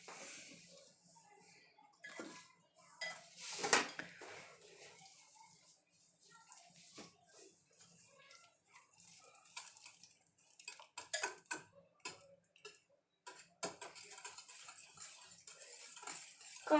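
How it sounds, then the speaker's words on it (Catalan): Coca dough mixed with oil in a bowl, with soft wet squelching and irregular clinks and scrapes of a utensil against the bowl, quiet and close with bursts of quicker mixing. "I ara sí que es comença a barrejar."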